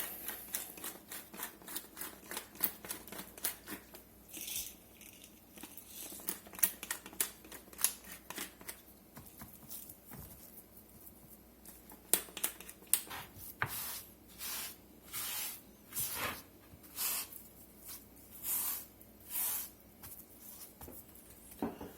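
Coarse pepper ground from a mill over a raw rump roast: a run of gritty, rasping crunches, irregular at first and then settling into a steady rhythm of short grinding bursts, close and fairly quiet.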